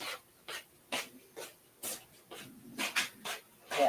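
A dog barking in short, repeated bursts, roughly every half second, moderately close, with no talk over it.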